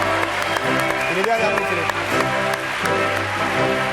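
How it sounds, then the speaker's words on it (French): Studio audience applause greets a guest arriving on a French TV variety show, steady clapping under a host's voice speaking over it. "les applaudissements de la foule"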